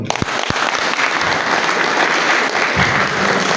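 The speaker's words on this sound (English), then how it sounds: "Let's applaud him for me." An audience at an association's annual meeting claps for a speaker, a dense, close burst of applause that stays steady for several seconds, with a few sharp individual claps at the start.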